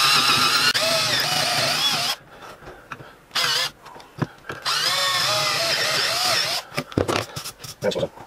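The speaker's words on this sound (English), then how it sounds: "So first of all, I'm just going to drill two holes." A power drill boring two holes into a wooden board, two long whining bursts of drilling at close range separated by shorter revs and pauses.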